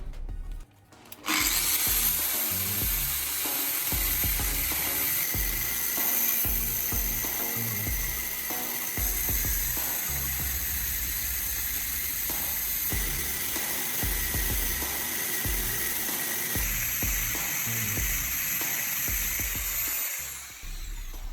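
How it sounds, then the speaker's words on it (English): An angle grinder cuts through clamped steel, whining loudly and steadily for about twenty seconds after a brief start-up, then winding down at the end. "Using the grinder, I carefully cut out the center section I just marked."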